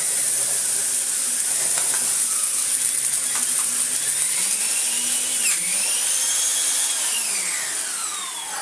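Numatic Henry 160 vacuum cleaner drawing up sawdust, a steady loud whine of suction and motor with gritty rattling and shifting pitch as debris passes through the hose.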